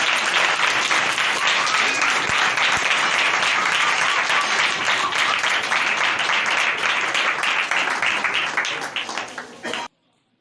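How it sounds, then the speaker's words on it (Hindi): A church congregation applauds loudly for Reverend William John, a dense sustained wash of clapping lasting about ten seconds before cutting off abruptly, with faint voices and a few chuckles mixed in. "रेवरेंड विलियम जॉन साहब से जोर से तालियां मारेंगे।"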